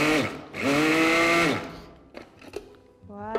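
Electric meat grinder mincing beef for Tunisian stuffed peppers, a steady motor whine running in two long stretches with a short pause between, then fading out to quieter kitchen clatter and brief bits of talk.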